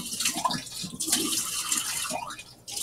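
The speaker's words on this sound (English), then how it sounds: "I'm gonna really quickly rinse this out with some cold water." Cold tap water runs briefly into a pan to rinse out burnt sugar, a close, hissing splash with a few gurgling changes in flow.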